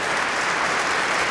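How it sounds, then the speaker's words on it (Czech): Standing audience in the Spanish Hall of Prague Castle gives a concert pianist steady, dense applause that stays even and fills the hall throughout. "Publikum ve španělském sále Pražského hradu opět vestoje, aplauduje tomuto skvělému klavíristovi."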